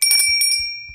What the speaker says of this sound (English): rings with a clarity and sustain that you just can't get out of your regular saddles